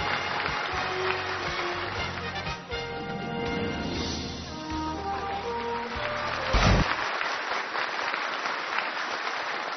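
An audience applauds at an award presentation on a Chinese military televised competition show honoring the tri-service honor guard, with steady clapping blended with loud stage music that fades near the end.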